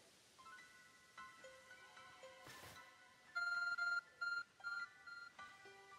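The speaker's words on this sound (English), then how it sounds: "Your arc phone is beeping." Arc Phone in the video game Pokemon Legends Arceus beeping over a quiet backdrop, with a series of clear electronic tones, then several louder, evenly spaced beeps in the second half.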